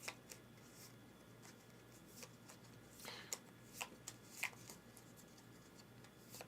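A deck of cards being shuffled by hand for a solo game of the deck-building board game Aeon's End, quiet riffles and flicks with soft taps, close and without talk.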